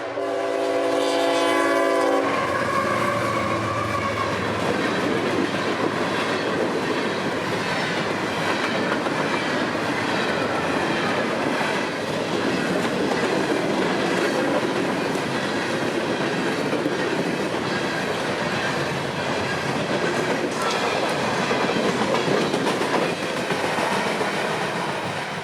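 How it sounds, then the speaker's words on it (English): An empty CSX coal train rolls north at track speed toward Flomaton, loud and close, with a long blaring horn opening the pass and then a steady, continuous roar of wheels and cars clattering by for the rest of the run. "yet another empty coal train rolls north, doing every little bit of track speed as they approach Flomaton"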